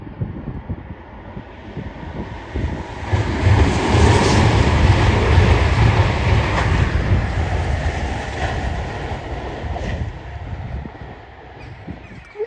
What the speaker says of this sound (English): What a lovely train. That's a lovely train.